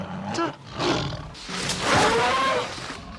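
Tiger roaring in a James Bond film, several deep, loud growling roars rising and falling close up, with no speech.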